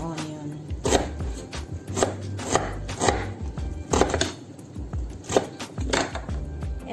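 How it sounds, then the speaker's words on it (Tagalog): A knife chops an onion on a wooden board in a steady series of sharp, close knocks, grouped in quick clusters with brief pauses between. "Ganyan lang ang paghiwa ng ating onion."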